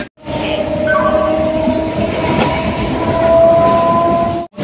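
A moving train on the Shantipur to Sealdah Krishak special route rolls into Dum Dum station, a loud steady rumble with wheel clatter and a long sustained horn tone running through most of the passage.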